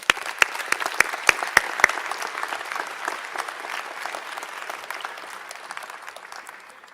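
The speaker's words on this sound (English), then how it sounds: "help me with a round of applause for all that you have done for them" Graduation ceremony crowd applauds the parents, a few loud sharp claps first, then a sustained dense wash of clapping from a large audience that slowly tapers off.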